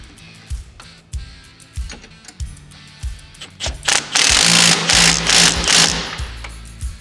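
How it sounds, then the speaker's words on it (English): A ratchet or impact tool tightens the pinch bolt on a RZR XP 1000 rack and pinion, first as a series of short, evenly spaced clicks, then as a louder sustained buzzing burst near the end. "Then we're going to fully tighten our pinch bolt."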